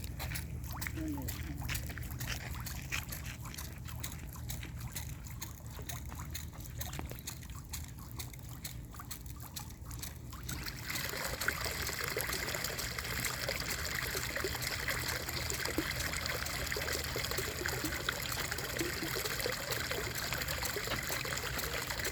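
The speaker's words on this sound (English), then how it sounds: "The water comes up from 300 feet, is pumped right here." Well water drawn up from a 300-foot depth pours out of a pipe into a koi pond, a steady trickling and splashing that grows louder and brighter partway through, with people talking over it.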